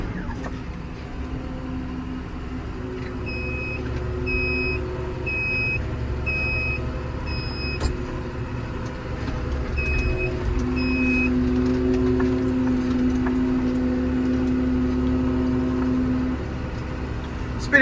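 A tractor sowing seed in a field turns round at the headland near a hedge, its engine rumbling steadily and swelling louder as it comes round, with repeated electronic beeps from the cab partway through.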